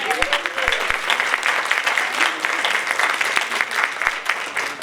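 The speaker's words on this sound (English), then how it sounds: "Yes, you can clap for them again." An audience applauds steadily and energetically throughout, a dense wash of clapping hands with a few sharper claps near the front.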